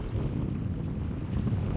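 Steady, heavy wind buffeting the microphone with a constant low roar while fishing, with faint water sounds underneath and no voices.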